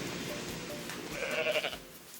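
Goats bleat in the video game Goat Simulator, several wavering cries rising over a busy, continuous game soundscape and peaking briefly near the middle.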